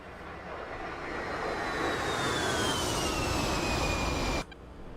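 An A-10C jet aircraft climbs after takeoff in the DCS World flight simulator, giving a steady, broad engine roar with a high whine that slowly falls in pitch. The roar holds for over four seconds, then cuts off abruptly.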